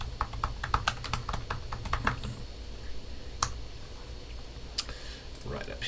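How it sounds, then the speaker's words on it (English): Computer keyboard typing during a statistics software tutorial, a string of quick, light key clicks in bursts over low background hum, with isolated louder clacks later. "I can type."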